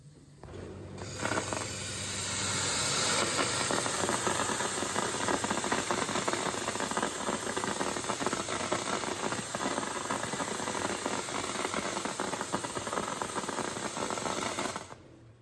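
A dry ice blasting machine cleans a surface at a 40-40 setting, a loud, continuous hissing rush with rattling grit that starts after a second and cuts off near the end, alone without talk.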